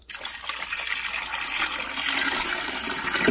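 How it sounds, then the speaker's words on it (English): Filtered water pours steadily into the reservoir of a new countertop ice maker, a continuous close splashing and gurgling fill that grows fuller as the level rises, with no talking. "So I put 8 cups of water in there."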